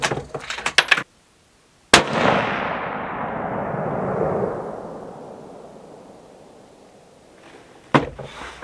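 One loud .243 rifle shot outdoors: a sharp crack after a moment of silence, followed by a long rolling echo that fades over several seconds, with handling noises before and after.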